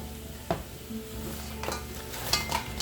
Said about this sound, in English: I'm just going to saute this in the sauce for a couple of minutes